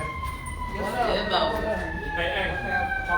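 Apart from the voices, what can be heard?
emergency vehicle sirens outside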